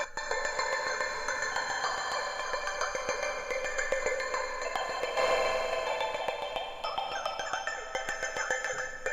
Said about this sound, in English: Turn the reverb mix up.